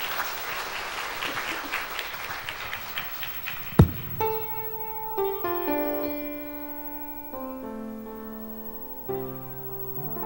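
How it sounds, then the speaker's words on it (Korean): Church audience applauding the accompanist, a burst of clapping that gives way to piano chords as the accompaniment begins, moderately loud in a hall. "우리 반주자 선생님에게 뜨거운 박수 부탁드리겠습니다."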